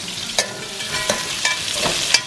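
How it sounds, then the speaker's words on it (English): Pork fries in hot vegetable oil under a constant loud crackling sizzle, punctuated by four or five distinct scrapes and clacks as it is mixed around the pan. "Now this pork, I'm just going to keep on mixing it around."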